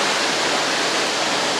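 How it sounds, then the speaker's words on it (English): Mendenhall waterfall near the glacier in Juneau, Alaska, rushing as a loud, steady, close roar of white water with no pause throughout. "So now we've arrived at the falls."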